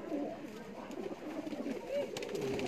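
Pigeons coo with low, soft vibrating calls close by, rising and falling over a few seconds, with voices talking faintly underneath.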